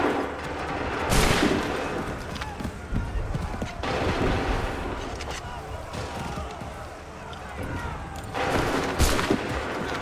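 Musket volleys crack out in Assassin's Creed III during the American Revolution, loud broadband bursts recurring every few seconds over a dense battlefield din, with shouted commands mixed in.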